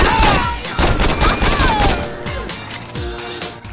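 Rapid gunfire from enemies in the Saints Row video game, a dense fusillade of overlapping shots and bursts that stays loud throughout, with a faint voice briefly mixed in.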